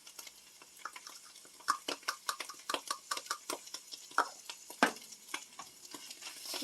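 Flour, pepper, basil and salt being stirred around in a pan, a run of quick soft scraping strokes with faint sizzling, close and fairly quiet with no talk.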